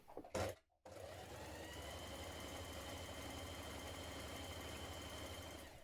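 A sewing machine stay stitches a winter coat panel from Butterick pattern 6385 in a steady, fast mechanical whirr after a brief thump and a pause at the start, running evenly to the end.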